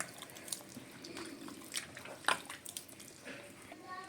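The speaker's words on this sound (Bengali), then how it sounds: "একটু গরম জল এর ভিতর দিয়ে দেবো" Warm water is poured into rice flour dough for chitol pitha, giving a soft, close splashing trickle with a few brief drips and louder splashes over several seconds.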